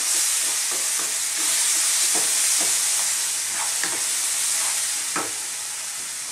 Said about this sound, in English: Stir this well, we've got a dairy product on the go now.